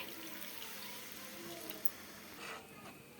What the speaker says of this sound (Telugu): ఆ జార్లోనే కొన్ని వాటర్ కలుపుకొని ఈ ఫ్రై దాంట్లో వేసుకోవాలి